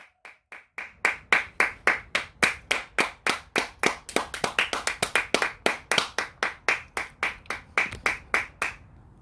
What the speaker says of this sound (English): So please, if you can hear my voice, would you clap your hands